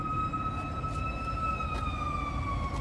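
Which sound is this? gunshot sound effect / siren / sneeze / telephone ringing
siren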